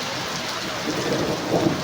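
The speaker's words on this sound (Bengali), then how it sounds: "দেখো বহুত আরারের বৃষ্টি হইতেছে, খুব শক্তিশালী বৃষ্টি" Heavy rain pours down steadily, a dense continuous hiss of drops hitting surfaces, with low rumbling thunder swelling beneath it toward the end, fairly loud and close with no voices.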